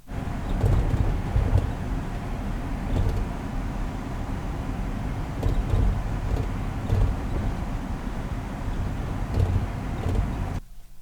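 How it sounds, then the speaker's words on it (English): Inside a moving car, a low engine rumble with light rattling runs steadily under faint air-conditioning hiss, ending with a sudden cutoff. "engine rattling sound."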